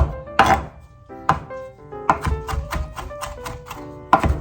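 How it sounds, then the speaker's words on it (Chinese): A knife chopping a mix of herbs finely on a board: sharp, irregular thunks and taps up close, several strokes spaced unevenly with short gaps, a few louder hits standing out, no one speaking. "切的越细越好，就对了"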